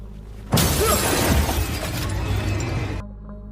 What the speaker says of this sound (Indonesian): OJ yang masih di dalam mobil terkejut saat patung kuda jatuh tepat di kaca mobilnya dengan berlumuran darah